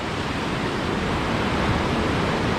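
Whitewater rapids roar through the Slaughter Sluice drop on the North Fork American River during a rafting run, a dense, steady, loud rush of churning water with no break.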